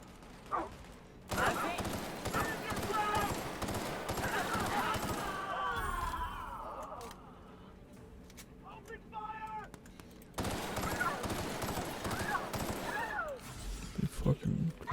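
Rapid bursts of gunfire in a firefight in The Outer Worlds, bursts of automatic shots with brief lulls and a quieter middle stretch, with voices talking between shots.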